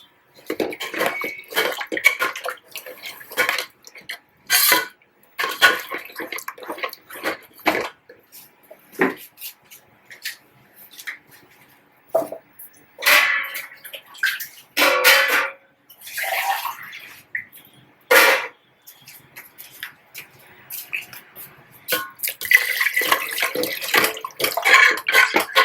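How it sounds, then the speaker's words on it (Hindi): Water is poured and stirred into Sindhi kadhi in a pot, with repeated splashing, sloshing and scraping bursts at an irregular rhythm, close by with no talk. "पानी हमने बढ़ा दिया इसको कढ़ी तैयार करने के लिए"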